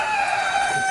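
Backyard rooster crowing, a single loud sustained call with no talk.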